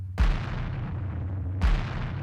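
Two heavy layered impact sound effects for modern metal music, about a second and a half apart, each a deep booming hit with a bright crack that decays into a rumbling tail.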